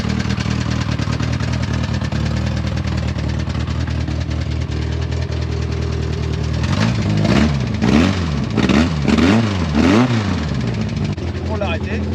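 Alpine A310 sports car engine at an autocross event, a steady loud drone that breaks into several sharp revving bursts in the second half, with speech over it.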